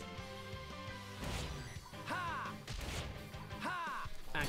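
A sword bash attack in Xenoblade Chronicles 2 lands as several heavy crashing hits, each with a ringing metallic sweep, over steady game music.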